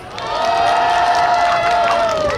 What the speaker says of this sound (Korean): 이분 좋다. 박수 한 번!